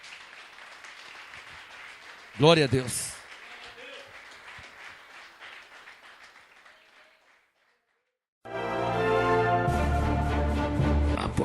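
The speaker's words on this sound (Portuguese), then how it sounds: "Pode aplaudir a Deus de todo o seu coração." Church congregation applause during a worship service, a scattered patch of clapping under a preacher's voice early on, then quiet, followed by loud music entering near the end.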